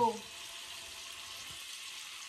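Jute leaf fritters (bora) frying in hot oil, a soft steady sizzle running throughout after a brief voice at the very start.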